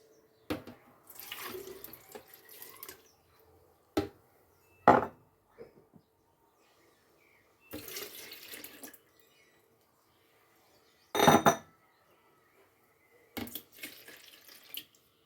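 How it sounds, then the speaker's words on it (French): 500 ml of milk pours into a bowl of banana crêpe batter in several short, splashy bursts, separated by quiet pauses and the odd light knock. "nous avons 500 ml de lait que nous allons rajouter"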